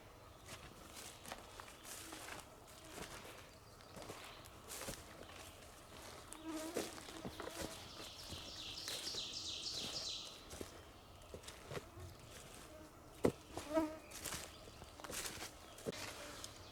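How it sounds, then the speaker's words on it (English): Swarms of biting bugs buzz outdoors in the woods, a thin, insistent whine that comes and goes close around the listener, mixed with rustling footsteps and occasional sharp knocks, with no talking. "I don't know if I'm impressing upon you guys how bad these bugs are, and they're getting me through my clothes."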